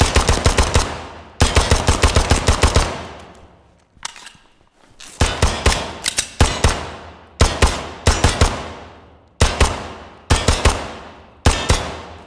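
M9A3 and M17 pistols fire in the Ground Branch video game, loud sharp shots in rapid strings and bursts with brief pauses between volleys, alone without talk.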